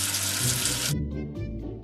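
Tap water runs in a strong, hissing stream to rinse soap away for about a second, then cuts off, leaving a few faint drips and trickles.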